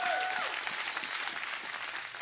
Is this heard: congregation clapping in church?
yes